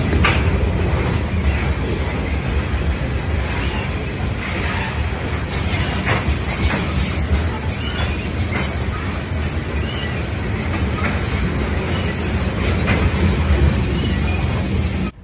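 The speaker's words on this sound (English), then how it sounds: "This train has 25 rail cars" A CN local freight train of 25 rail cars passes near Coteau, Quebec, producing a continuous heavy rumble with rhythmic wheel clatter and occasional squeals. The sound stays loud and close throughout.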